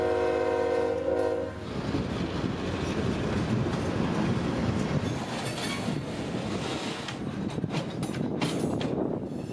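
CSX freight locomotives on the Palmetto Sub sound a loud, sustained horn blast that cuts off, then rumble heavily and continuously as they pull past a switch onto the main line, close and loud throughout.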